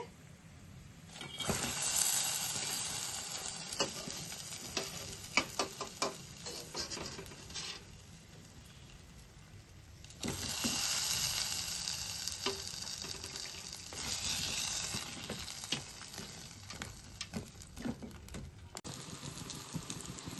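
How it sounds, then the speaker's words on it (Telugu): Garelu, lentil fritters, fry in hot oil until golden, giving a faint, uneven sizzle with intermittent crackling bursts and occasional light clatter, without speech. "ఇలాగా గోల్డ్ కలర్లో వేపుకోవాలి"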